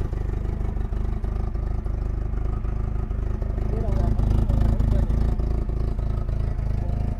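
A Toyota 2.5-ton forklift engine with a broken exhaust runs loud and close, a rough, rapidly pulsing clatter that swells slightly midway, with someone talking over it.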